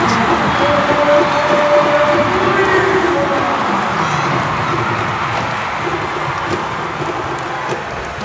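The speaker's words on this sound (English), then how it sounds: "Crowd is into it." A volleyball arena crowd roars and cheers through a rally in a Creamline versus Petro Gazz PVL All-Filipino match, a dense, steady wall of noise from the stands that fades slightly toward the end.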